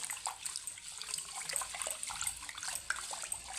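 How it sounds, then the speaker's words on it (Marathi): Split mung lentils being rinsed in clean water: soft, quiet splashing and trickling with small clinks, steady and close, no voices. "मी आता ही स्वच्छ पाण्याने धुवून घेणार आहे"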